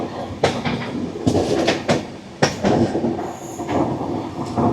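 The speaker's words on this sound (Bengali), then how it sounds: "খড়গপুর পর্যন্ত আমাদের এই ট্রেন ননস্টপ চলবে" A moving Puri–Howrah Shatabdi Express, heard from a coach near the engine, rumbles along with sharp rhythmic wheel clacks and a thin squeal of wheels against the rails rising briefly near the end.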